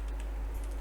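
Quiet, quick keystrokes on a computer keyboard as a git commit command is typed, a short soft run of clicks over a low steady hum.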